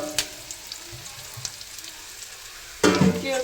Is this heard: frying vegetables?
yes